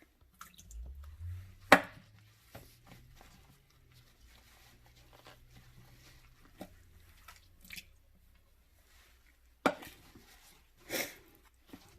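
Whey drips from freshly made homemade paneer curds in a cloth, a few scattered close drips and patters over a quiet background, with faint handling noises.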